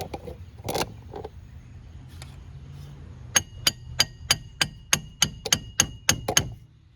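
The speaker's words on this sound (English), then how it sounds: "Let me back you up so I can hit this with the hammer real quick." A few clanks and scrapes of handling, then a rapid series of about a dozen sharp metallic hammer strikes on a pickle fork at a 2002 Pontiac Grand Am's tie rod end, quick steady rhythm, close up.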